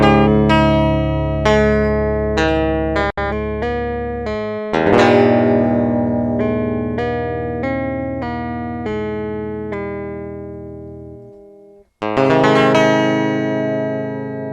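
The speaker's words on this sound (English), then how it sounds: "I've loaded up the Evolution Baritone Electric, and with no effects, it sounds like this." A clean, undistorted sampled baritone electric guitar, Evolution Baritone Electric by Orange Tree Samples, plays a series of ringing plucked notes and chords, each decaying naturally, with a brief pause before a final strummed chord.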